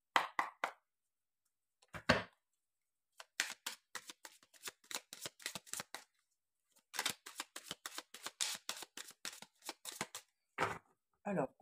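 Oracle cards shuffled and laid out by hand, giving crisp, close riffles and flicks in irregular bursts with short pauses between them.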